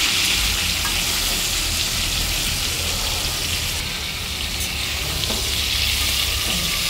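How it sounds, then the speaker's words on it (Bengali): Cauliflower florets and potato pieces fry in hot oil with turmeric and salt in a kadai, a loud, dense, continuous sizzle heard up close, with occasional faint stirring. "এইভাবে একটু লাল লাল করে ভাজতে হবে।"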